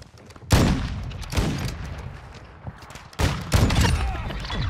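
Bursts of rapid gunfire in a first-person shooter game, two loud volleys with scattered shots between them, dense and close, with faint voices in the background.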